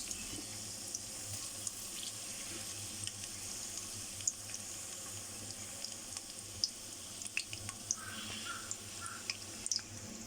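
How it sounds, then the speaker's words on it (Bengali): Chopped onions frying in hot oil in a pan give a steady, close sizzling hiss with scattered small pops and crackles throughout. "এই যে এখানে আমি প্যানের মধ্যে তেল দিয়ে গরম করে নিয়েছি। এখন পেঁয়াজ কুচি দিয়ে দিচ্ছি।"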